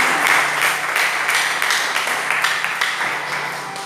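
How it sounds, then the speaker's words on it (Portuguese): A church congregation clapping in praise, a bright, fairly close burst of many hands that gradually thins and softens. "Aplauda Jesus."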